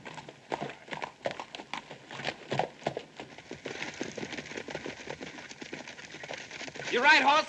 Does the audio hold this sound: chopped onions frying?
no